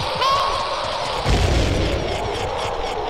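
Bomb explosion in Zelda: Ocarina of Time, heard as a single loud boom about a second in that swells into a rumbling burst and then trails off over a high ringing tone.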